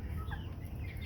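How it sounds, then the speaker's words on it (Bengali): Hens cluck briefly in a backyard flock, a couple of soft close clucks over a low steady background noise, with no talk. "আমার মুরগিগুলো ঠোকরা ঠুকরি করে একেবারে অবস্থা খারাপ করে ফেলছে।"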